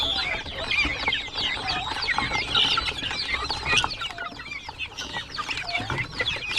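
Chicks in a backyard farm pen, separated from the guinea fowl, cluck and peep in a steady busy chorus of many overlapping calls, fairly close and constant throughout with no talking.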